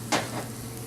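Pre-cooked pasta goes into a hot pan, giving a brief sizzling burst that quickly settles into a soft, steady frying hiss, close and alone with no talking.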